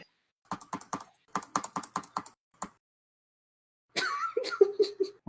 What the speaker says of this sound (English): Violently clicking.